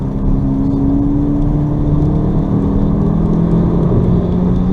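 A VW Golf GTE plug-in hybrid driving on both its electric and petrol motors gives a steady, close engine drone and road rumble with no speech.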